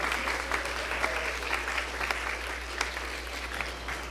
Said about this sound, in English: Let's give another round of applause to Reverend Damien.